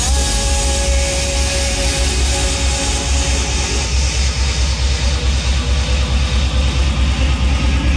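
Uplifting transition effect in a trance-style music track: a dense, bright wash of sound that builds steadily, with a rapid pulsing rhythm underneath and nothing else over it.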